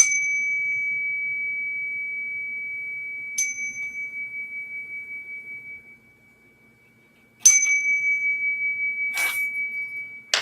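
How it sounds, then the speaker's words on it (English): Chime bells struck to open a spiritual reading, each clear metallic ping ringing out with a long sustained tone that slowly decays, struck several times with a gap of quiet between, close and alone. "So what we're gonna do is just start off right away with the bells,"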